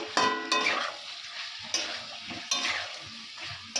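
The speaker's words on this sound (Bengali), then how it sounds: "মাংসটা প্রায় কষানো হয়ে গেছে তো আলুটাও এর মধ্যে দিয়ে দিয়েছি" Meat and potatoes sautéing in a pan, a steady sizzle broken by several sharp scrapes and clanks of a spatula stirring, close and moderately loud, with no voices.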